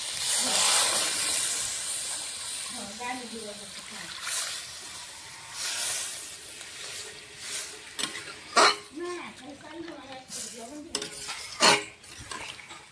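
Hissing sizzle as water hits a hot pan of fish and spinach curry, followed by clattering utensils and stirring, with a voice briefly heard in the background.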